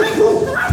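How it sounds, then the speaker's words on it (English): A dog gives a short whining, yelping bark, close and loud, lasting well under a second. "She likes to bark at those dogs over there."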